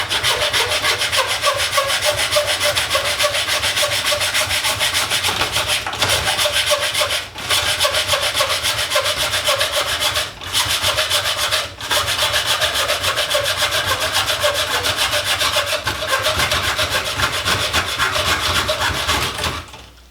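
A hand mitre saw cuts through a clamped piece of wood that has a small knot, making loud, steady back-and-forth rasping strokes that continue for about twenty seconds with only a few short pauses.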